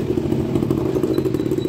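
A motorcycle engine idles nearby with a steady, throbbing clatter that holds even and fairly loud throughout, with no voices.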